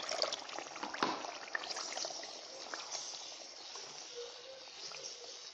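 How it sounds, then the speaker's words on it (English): Water poured into a stew of plain rice and eggs cooking over a fire, a soft steady trickle and splash with faint sizzling hiss, close and fairly quiet, no voices. "Add just a little water to my stew on fire."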